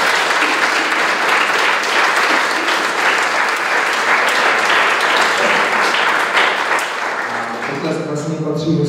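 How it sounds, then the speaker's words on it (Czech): Loud, sustained applause from a large audience at the closing ceremony of a national biology olympiad round in Ostrava, dense clapping filling the whole stretch and thinning slightly near the end as a low tone enters. "Poprosím znovu velký potlesk."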